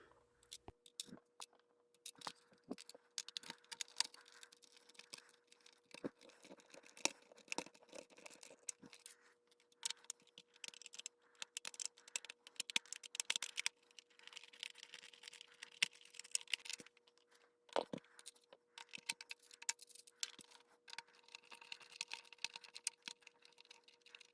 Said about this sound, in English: Now for the last set of screws, getting the shells connected together.